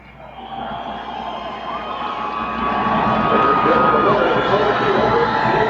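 A Martinsville crowd at the finish of the 2004 Kroger 250 Craftsman Truck Series race roars on its feet, a broad, swelling cheer that grows louder and holds steady throughout.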